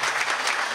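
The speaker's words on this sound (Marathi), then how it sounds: "जरा जोरदार टाळ्या होऊ द्या मित्रांनो" Audience applause at a Marathi book release ceremony for the book Laughing Buddha, a steady, dense burst of clapping from a crowd filling the short moment without voices.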